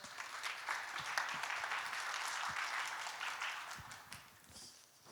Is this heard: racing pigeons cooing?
no